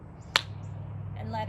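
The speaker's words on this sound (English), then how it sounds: "Take a breath in, clap at the top" One sharp, quiet clap sounds at the top of a breath during an outdoor autumn yoga session, a lone brief snap over a low steady background hum.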